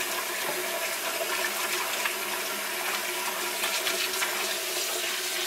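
Tap water runs in a steady, loud, continuous gush into a pot in a home kitchen, the hissing splash unbroken throughout with no talking.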